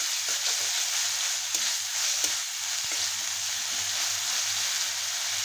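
Onion with ginger-garlic paste fries in ghee, a steady hissing sizzle with a faint low hum beneath and a few soft stirring knocks.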